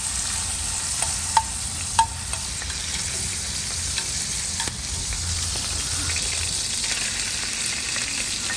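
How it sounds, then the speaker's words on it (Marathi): Squid fries for a seafood paella in a large frying pan, giving a steady, close sizzle and crackle with a few louder pops early on and no voices. "तर माणकी आमी तळसून घेवया."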